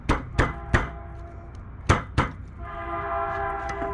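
Train passing nearby: a few sharp metallic clanks and bangs, then a sustained loud horn-like tone holding through the last second and a half, with no talking.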